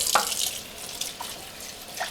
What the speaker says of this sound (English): I usually do it at the sink and I just use one of these brushes.